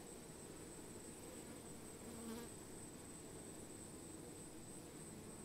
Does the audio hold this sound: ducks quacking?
no